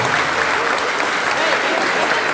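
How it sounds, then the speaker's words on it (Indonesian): Steady, dense applause from a school worship service crowd, loud and continuous throughout with no pauses. "Sekali lagi tepuk tangan untuk Tuhan."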